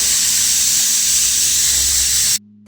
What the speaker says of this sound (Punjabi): ਹੁਣ ਕੁੱਕਰ ਦੀ ਸਟੀਮ ਲਾ ਖੋਲ ਦਾ ਕਰ ਦਾਂਗੇ